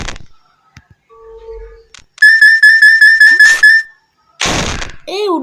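A sound effect from the Level Devil video game plays a bright, rapidly repeating chime-like tone for about a second and a half, followed by a noisy burst and a few warbling electronic tones.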